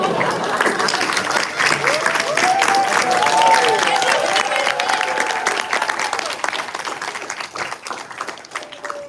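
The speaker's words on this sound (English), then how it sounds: "Give him a round of applause." An audience at a Toastmasters talk gives a volunteer speaker sustained applause, dense clapping that swells and then gradually thins out, with a few voices faintly underneath.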